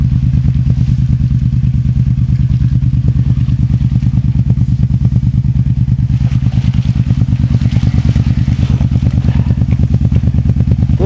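A motorcycle engine idles loudly and close by, a steady throbbing putter with rapid regular pulses and slight rises in intensity.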